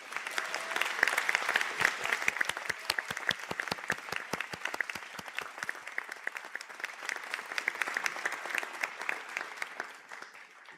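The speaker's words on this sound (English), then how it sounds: "stand for a round of applause" An audience applauds medical biotechnology honours graduates at a college conferring ceremony. Many hands clap in a dense, sustained wash with sharp individual claps standing out, holding steady for about ten seconds before tapering off abruptly near the end.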